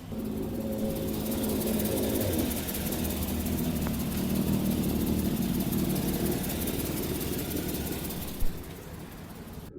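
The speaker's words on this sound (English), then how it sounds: "I'm gonna try to get y'all a little listen in on the exhaust leak the way it is" The idling engine of a 1997 Chevy Suburban with an exhaust leak rumbles steadily up close with a raspy, puffing exhaust sound, and a brief knock near the end.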